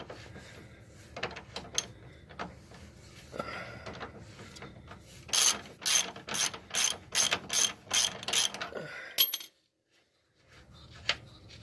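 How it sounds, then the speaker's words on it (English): Ratchet clicking as a bolt is backed out of a 2008 Jeep Patriot control arm: a burst of about eight sharp, evenly spaced clicks up close, amid quieter workshop clatter, then a brief silence. "We'll just finish turning this out with the ratchet."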